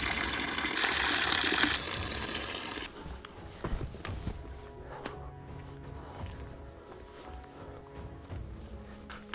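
Water gushes loudly into a bottle for about two seconds on a Himalayan trek at Bekaltal, then fades into quiet outdoor footsteps and light rustling.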